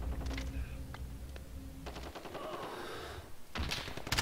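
Automatic gunfire in the Call of Duty: Modern Warfare video game, with several rapid bursts of shots that start and stop across a few seconds at moderate loudness and no speech over them.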